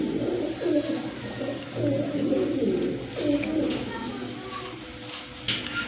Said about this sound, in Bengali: মাশাআল্লাহ দেখেন শোকিং এর একটা মাদি কবুতর, একদম ইম্পোর্টেড কবুতর না?